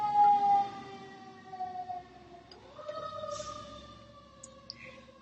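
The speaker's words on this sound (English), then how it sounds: "hold for sirens in Mayberry, please" A wailing emergency-vehicle siren sweeps up and down at moderate distance with no voices, its tone sliding upward partway through as it passes.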